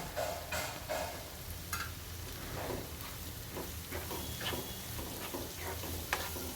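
Finely chopped onion is added to ginger, chili and garlic and sizzles steadily in a pan, with a soft continuous frying hiss and occasional clicks of stirring close up.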